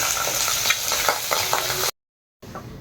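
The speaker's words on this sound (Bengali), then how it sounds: "যে কারণে দুবার ভাজা হচ্ছে।" Fish sizzles steadily as it fries in hot oil in a pan, for a curry with cauliflower; a loud continuous crackle with faint stirring taps, cutting to silence partway, then a quieter sizzle returning.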